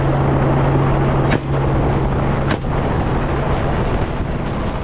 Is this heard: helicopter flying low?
yes